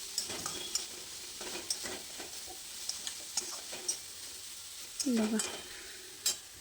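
Green peas fry in hot oil in a pan with a steady soft sizzle, broken by intermittent clicks and scrapes of a spoon stirring, and one short spoken word near the end.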